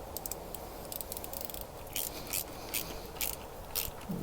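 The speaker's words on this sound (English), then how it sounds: "This is just a 1/4 inch ratchet here I got." A 1/4 inch ratchet tightens the valve cover bolts on a 1.8 Toyota Corolla, giving short rasping clicks in repeated bursts up close with no talking.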